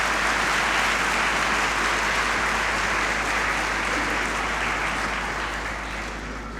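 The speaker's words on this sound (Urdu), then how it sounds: "تو آئیں اپنے لیے اور اپنی کلیسیا کے لیے زوردار تالی جائیں" A church congregation gives sustained, loud applause that fills the room with dense, even clapping. It begins at full strength and fades slightly near the end, with no speech.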